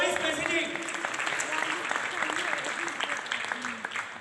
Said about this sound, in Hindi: हाशमी साहब, मेरा ख्याल है कि तालियां रुकनी नहीं चाहिए